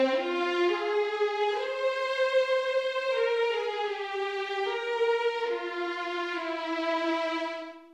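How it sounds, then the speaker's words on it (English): Cinematic Studio Strings sample library playing a legato line, smooth sustained string notes gliding into one another in a slow melodic phrase, clear and alone without talk. "if you switch the legato on and off, you get it changes between legato"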